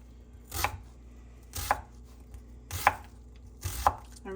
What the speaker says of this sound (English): I'm just chopping this onion.